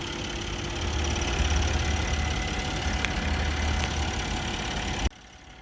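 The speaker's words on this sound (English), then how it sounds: "Mercedes all-new inline 6-cylinder turbo with mild hybrid" A 2020 Mercedes-Benz GLS450's inline six-cylinder turbo mild-hybrid engine idles with a steady low rumble and faint rhythmic knock, close by, before cutting off abruptly near the end.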